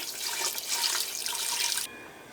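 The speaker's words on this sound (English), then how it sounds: "We're going to cover it with water." Water pours steadily from a tap over a ham hock for Portuguese bean soup, a bright, continuous splashing rush that stops abruptly near the end, leaving quiet room tone.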